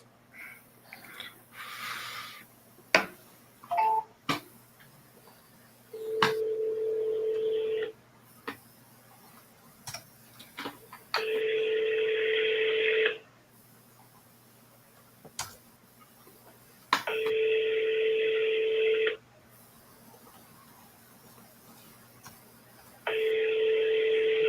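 Telephone call being placed: a few quick dial tones, then a repeated ringback tone, each ring about two seconds long separated by pauses, heard clearly and alone.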